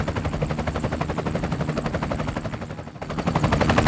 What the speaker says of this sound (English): Wait, Doc, you did remember to put this helicopter in autopilot?